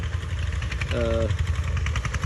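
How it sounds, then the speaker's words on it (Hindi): Tractor engine running on a farm, a steady low rumbling idle throughout, close and fairly loud, with a short tonal whine partway through. "इस तरह के जो चल रहा है, जिसकी आवाज़ आ रही है, ट्रैक्टर बोलते हैं ना"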